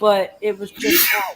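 A single sharp human sneeze bursts out right after a brief spoken phrase, loud and close, with a breathy hiss that fades quickly.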